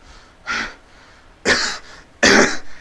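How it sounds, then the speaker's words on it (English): Three harsh, close coughs spaced about a second apart, the last two louder and raspier, with quiet breathing in between. "he begins to cough."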